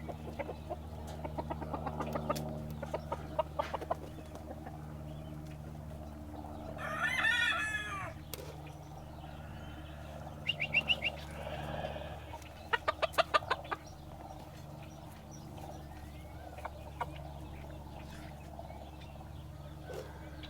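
Farmyard chickens cluck and a rooster crows during daily chores, the crow rising once near the middle and sharp bursts of clucking scattered over a steady low hum, moderately distant and fairly quiet, with no talk.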